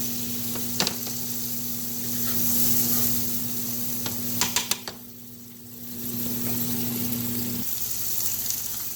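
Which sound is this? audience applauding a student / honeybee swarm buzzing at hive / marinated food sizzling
marinated food sizzling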